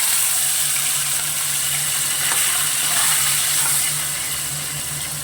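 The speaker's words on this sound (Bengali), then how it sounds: "এই যে আমি তেল গরম করেছি, এখন আমি একে একে মাছগুলোকে ছাড়ছি।" Small tapse fish frying in hot oil, a loud, continuous close-up sizzle with a constant hissing wash and a low steady hum beneath, no voices.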